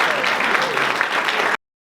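An audience at a lecture on skiing history gives a round of applause for Carl Easterly, a dense, steady clapping from many hands that runs for about a second and a half before cutting off abruptly.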